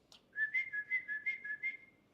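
A person whistles to imitate another's whistle, giving a quiet, close run of about eight short pulsed notes in one steady pitch that trail off after two seconds, with no talking.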